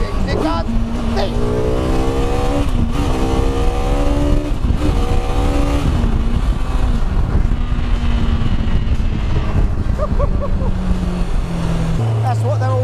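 A car powered by a 14,000 rpm Honda superbike engine revs repeatedly in loud, high-pitched rising bursts, roaring steadily throughout with a lower idle at the end.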